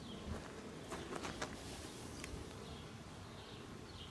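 Honeybees, mostly dark-coloured, buzz steadily around their hives during an inspection, a dense continuous hum close by with a few brief louder passes of individual bees and no talking.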